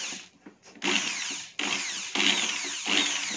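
Power drill spinning the stuck shaft of an electric fan motor treated with WD-40, whining in loud bursts that cut off and restart several times, close up.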